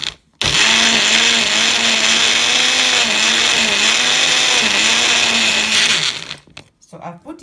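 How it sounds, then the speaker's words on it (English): A blender purees a banana smoothie with little water, running loud and steady for about six seconds with a wavering motor pitch before spinning down. "finally it blended well."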